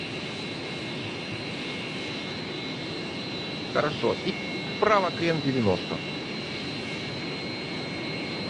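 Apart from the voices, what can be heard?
Su-27 jet engines at full thrust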